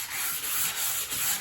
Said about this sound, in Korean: 샌딩 작업을 해주시면 돼요.